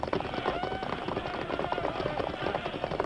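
Horses gallop in a Lone Ranger radio drama, a steady busy clip-clop of running hooves that stays close and loud throughout, with voices speaking over parts of it.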